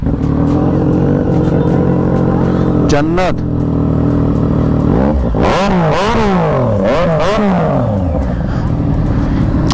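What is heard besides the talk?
motorcycle engine revving exhaust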